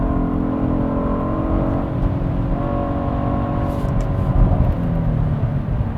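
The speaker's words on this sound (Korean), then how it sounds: "그리고 엔진음이 꽤 매력적이에요. 지금 일반 컴포트 모드로 가다가 스포츠 모드로 바꿨거든요." The 3.5-litre V6 of a Genesis GV80 Coupe in sport mode gives a steady, deep, booming drone heard from inside the moving car, with its pitch rising and easing slightly over six seconds and no voices.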